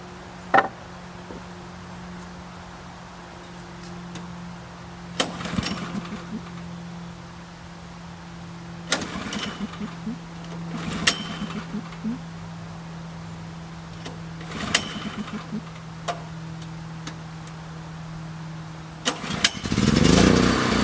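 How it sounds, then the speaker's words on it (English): A generator drones steadily at a low pitch throughout, broken by several brief, sharper knocks and clatters from nearby work. "We'll start up the generator."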